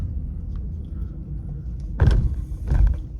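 A giant door shaped like Mugshot's face grinds open in the casino level of the first Sly Cooper game, a heavy rumbling mechanical thud followed by a second low rumble, fairly loud with no talking.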